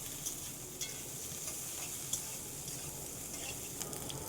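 Green chilies stir-fried in a pan for potol bharta, a steady close sizzle with scattered light stirring clicks and scrapes, no voices.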